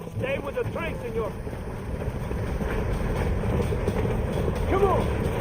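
Train rolling along in the Western video game Red Dead Redemption, a continuous low rumbling clatter under game dialogue voices.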